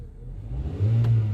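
A 1.6-liter engine in a 2017 Hyundai Accent hatchback idles low, then revs up and holds a higher steady drone, close and fairly loud, no voices.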